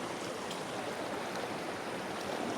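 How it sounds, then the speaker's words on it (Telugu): Valasa waterfall in Maredumilli roars as a dense, continuous rush of falling water, steady and broad with no breaks, close by. "ఇదేనండి వలస వాటర్ ఫాల్స్ లొకేషన్"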